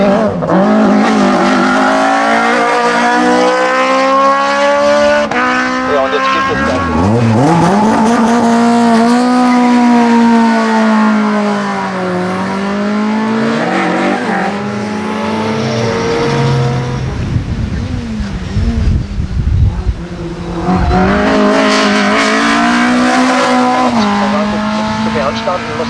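A race car climbing the Hauenstein hill climb course, its engine screaming loud and close as it accelerates hard through the gears, pitch rising and dropping with each shift, with tire noise and a commentator talking over it.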